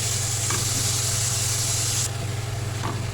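Minced meat sautéing with ginger and garlic in a pan: a steady, close, loud sizzle with a constant low hum beneath it and a few faint stirring clinks, and no talk.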